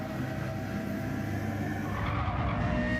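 A race car in the Mini Autopolis round of a Gen-X Same Car Sunday sim-racing series judders and skids around the track, its engine droning steadily and loudly with constant low rumble and tyre scrub, no voices over it.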